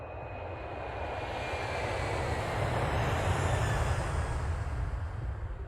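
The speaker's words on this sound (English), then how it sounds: "watch for low-flying aircraft" A low-flying airplane passes near the airport, its engine a steady, broad roar that swells gradually and stays loud and close throughout, with no voices.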